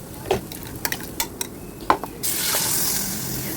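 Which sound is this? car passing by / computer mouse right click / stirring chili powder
stirring chili powder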